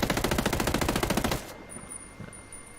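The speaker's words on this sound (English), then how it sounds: "and then full auto. I'm suggesting this is going to, obviously with the recoil, stick the muzzle in the air" AK-12 rifle on full auto in Ghost Recon Breakpoint, with a loud, rapid string of about twenty shots in even rhythm that stops abruptly, followed by quieter ringing and faint mechanical clinks.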